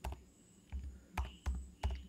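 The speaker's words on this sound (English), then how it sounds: "Instead of typing like this" Keys on a computer keyboard are tapped in short, uneven bursts, five or six clusters of clicks at close range and fairly quiet. No voice is heard over them.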